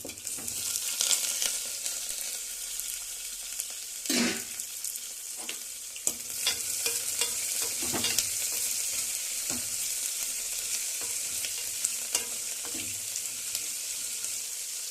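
Garlic and tempering spices fry in oil, giving a steady close sizzle with occasional sharp pops and spatters from stirring.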